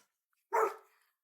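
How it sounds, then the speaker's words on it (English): A single sharp dog bark, fairly close, then quiet. "is barking his head off"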